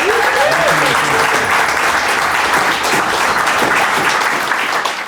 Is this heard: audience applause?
yes